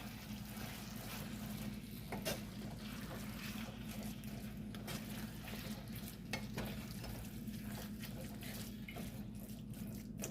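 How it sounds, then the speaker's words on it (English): Ground beef being stirred in a pot, a steady low sizzle and scraping with occasional sharp utensil clicks, continuous and close with no talking. "I'm just gonna go ahead and just stir that a little"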